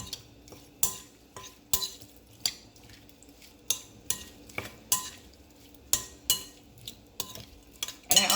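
A spoon mixing Maggi fish seasoning into a seafood foil pack of shrimp, corn and potato, with sharp clinks and scrapes against the container at an irregular rhythm, close and distinct over a quiet background.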